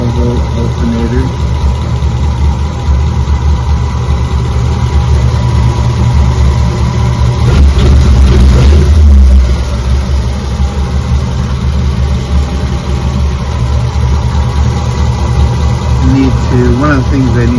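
A 1941 Ford cabover truck engine on a mechanical fuel pump idles steadily and loudly up close, with a low rumbling drone that swells briefly midway.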